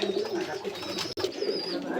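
A pair of Kamangar pigeons coos steadily up close, their throaty calls continuous apart from one brief break near the middle.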